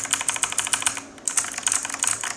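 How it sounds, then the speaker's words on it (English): Rapid clicky mechanical computer keyboard typing, a dense run of sharp bright keystrokes with a brief pause midway, close and fairly loud with no talking. "Your keyboard has the worst type of which is clicky."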